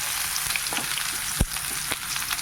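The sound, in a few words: spice-coated dried shark frying in a pan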